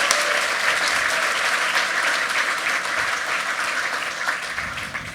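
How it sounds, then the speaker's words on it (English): Steady, dense applause at an awards ceremony fills the whole stretch at even loudness, a broad wash of clapping from a large crowd. "If we could get a round of applause for Sibel and her beautiful work."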